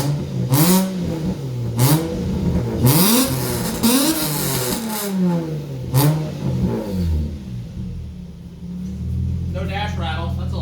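An Infiniti G35 fitted with a loud eBay exhaust revs repeatedly in rising and falling surges, a deep burbling roar close by that settles into a steady idle rumble at the end.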